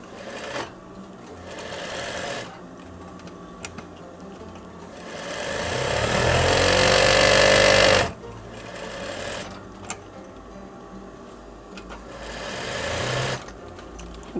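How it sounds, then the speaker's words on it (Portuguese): Sewing machine stitching a double topstitch along a garment collar, with bursts of steady motor whir broken by short pauses, including one longer, louder run near the middle. "Eu vou passar 2 pespontos aqui."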